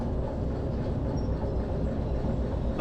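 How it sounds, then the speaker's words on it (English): A long freight train rolls steadily along in the railway simulation game Derail Valley, a continuous low rumble of wheels and cars with faint rhythmic clatter and no voices over it. "We do have a decently long train though"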